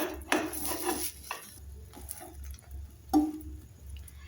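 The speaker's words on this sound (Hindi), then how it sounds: "अब हम इसे पलट लेंगे और इसे 2 बराबर भागों में काट देंगे।" A spatula scrapes and knocks against a pan as an egg omelette is flipped and cut in half, giving a few distinct close metallic clinks and taps over a low background hum.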